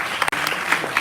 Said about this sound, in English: Another clap for the minister